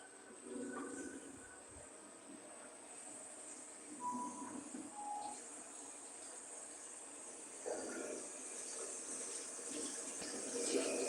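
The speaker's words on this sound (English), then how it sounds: "you've had the water on way longer than needed" A kitchen tap runs steadily at low level as a continuous soft hiss of water, with faint clinks and household noise around it, and no talk.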